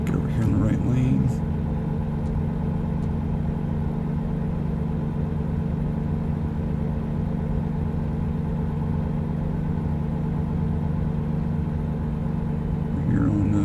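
Truck cruising along US 70 in American Truck Simulator, a steady droning engine and road rumble holding even for the whole stretch, loud and close, with a few brief shifts at the start and end.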